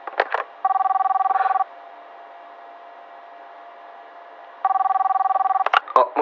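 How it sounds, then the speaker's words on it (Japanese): Telephone dialing tones for a call into a radio show: two long bursts of rapid pulsed tones separated by a quiet steady line hum, with short clicks and blips at the start and end. "ということで早速この方と電話をつないでみたいなと思います。"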